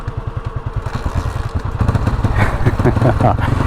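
A Honda CB250RS motorcycle engine runs on choke, chugging in a fast, uneven rhythm close by, growing louder and rougher partway through, with a voice faintly audible.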